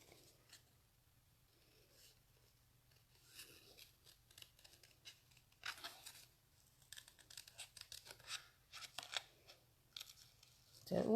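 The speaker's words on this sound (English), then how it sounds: "they're not that difficult to cut out, so it's not too bad." Scissors snipping out paper shapes, a quiet, intermittent series of cutting and rustling sounds that grows busier and louder toward the end, close by with low background hum.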